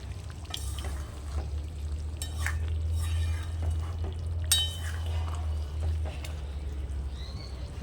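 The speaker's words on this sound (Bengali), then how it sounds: "এই দেখো আস্তে আস্তে করে কষানো হচ্ছে" Mutton curry masala sizzles gently in a pan while a spoon stirs it, with soft scraping clinks scattered over a steady low hum from the stove.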